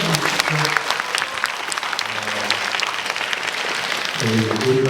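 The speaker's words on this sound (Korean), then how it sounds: "박수 한번" An audience at a film screening Q&A claps in a sustained, dense round of applause, with a voice talking over the clapping at the start and end.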